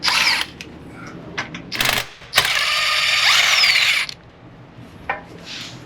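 A ratchet spanner undoing a bolt on a Meister R coilover for an E46 BMW 330cd, rapid clicking pawl bursts, then a longer sustained ratcheting run and a few faint clicks after, loud and close with no talk.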